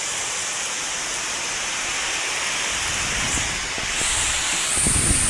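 Heavy rain in a storm pours down as a dense, loud, continuous hiss, with a few low gusty rumbles toward the end.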